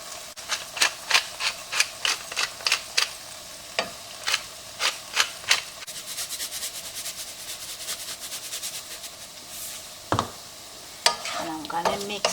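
A spoon scrapes and stirs meat and potatoes in a pot for the Persian dish vavishka, a steady series of sharp scraping strokes followed by quieter sizzling, then a clank and more stirring near the end.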